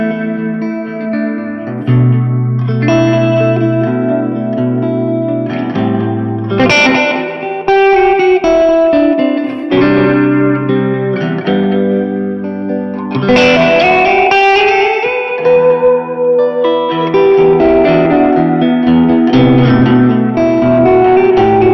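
Electric guitar played through a Bogner Ecstasy Mini amp with El Cap echo, ringing chords and melodic lines washed in repeating echoes and reverb, loud and continuous with no talking.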